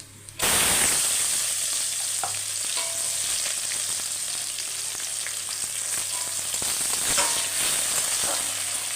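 Chopped onions fry in hot oil with cardamom, cinnamon, cloves and cumin, giving a loud, continuous sizzle that starts abruptly and carries on steadily, with occasional scraping stirs.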